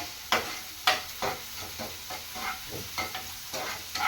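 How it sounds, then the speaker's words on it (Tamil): Tomatoes sauté in a hot frying pan for an egg podimas dish, a steady sizzle broken by several sharp scraping stirs of a spatula against the pan, close and without talk. "தக்காளி போட்டிருக்கேன். தக்காளி வதங்கிட்டு இருக்கு."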